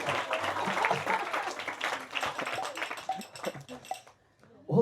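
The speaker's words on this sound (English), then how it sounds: "Give him a round of applause, he's got the flu." Audience applause during a devotional stage drama, moderate scattered clapping that fades out near the end, with voices mixed in.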